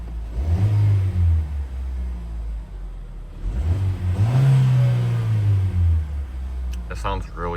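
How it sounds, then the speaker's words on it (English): Idling 1.5-litre turbo engine of a 2024 Chevrolet Equinox LT revved twice, each blip rising to a droning whir then falling back to a low rumble, close and loud, with a short beep near the end. "let's rev it, why not? Let's see how it sounds."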